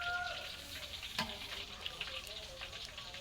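Food fries in a pan during home cooking, a close, continuous crackling sizzle with scattered pops and faint stirring clicks.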